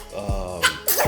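A single sharp sneeze bursting out close and loud near the end, preceded by a brief intake and a murmur of voice, indoors.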